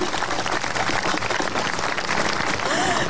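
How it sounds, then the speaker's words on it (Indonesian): Studio audience applauding Pak Kasiman on an Indonesian talk show, a dense, steady wash of clapping that fills the whole stretch at even loudness with no voices standing out. "boleh kasih tepuk tangan dong untuk Pak Kasiman"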